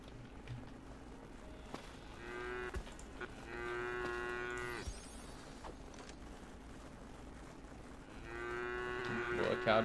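Cattle in the crafting game Craftopia give several drawn-out moos, a couple of longer calls and a later one, each clear and close against a low steady background hum.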